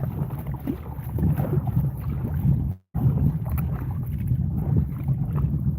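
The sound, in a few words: paddling a kayak on water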